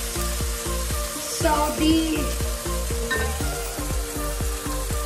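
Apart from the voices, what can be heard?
tomato sautéing in pan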